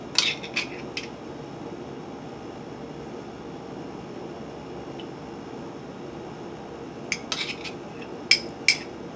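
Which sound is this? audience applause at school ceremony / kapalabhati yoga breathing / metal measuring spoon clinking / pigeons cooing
metal measuring spoon clinking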